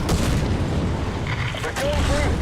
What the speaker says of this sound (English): I keep calling an artillery on that position